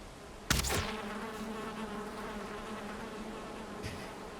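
In the video game Valheim, a sharp impact is followed by a steady, droning bee buzz that hums on continuously, with a faint second tap near the end; no one speaks.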